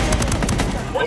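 Rapid bursts of automatic gunfire crack in quick succession during a Ghost Recon Wildlands firefight, loud and close, rattling off several shots within about a second.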